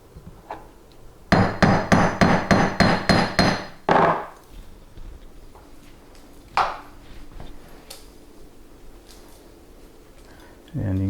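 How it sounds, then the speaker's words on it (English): Hammer blows on a thick aluminum gang rig for goose decoys: a rapid run of about ten loud metallic whacks, then one more strike a few seconds later, with quiet handling noise between. "You have to whack that thick aluminum pretty hard."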